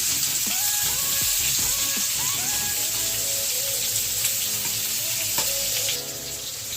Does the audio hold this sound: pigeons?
no